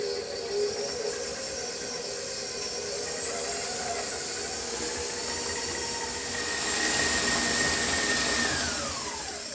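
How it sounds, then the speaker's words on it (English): Electric mixer beating butter with vanilla seeds for cookie dough, a steady whirring motor drone with a hissing edge that holds for several seconds and swells slightly near the end, with no talk. "So I'm going to beat this up until the butter is nice and fluffy."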